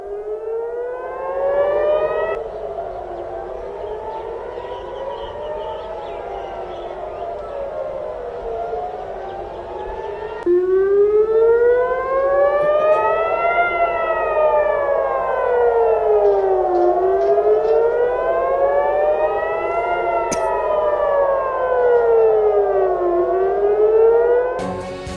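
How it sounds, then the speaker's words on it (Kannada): Air raid sirens wail in Tel Aviv during an Iranian missile attack, with several loud rising and falling tones overlapping continuously and growing louder partway through, with no voices. "ನಿರಂತರವಾಗಿ ಸೈರನ್ ಮೊಳಗ್ತಾ ಇದೆ ಟೆಲ್ ಅವೀವ್ನಲ್ಲಿ"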